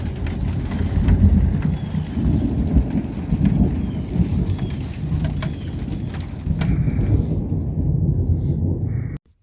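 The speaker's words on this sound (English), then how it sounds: "And I hope this rain is all we get" Heavy rain pours steadily with low thunder rumbling through it, then the sound cuts off abruptly at the end.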